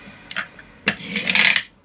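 A wind-up Mr. D.I.Y. hammer truck diecast toy with a Choro Q-size motor gives a few sharp clicks and then a short burst of rapid mechanical ratcheting, close and fairly loud.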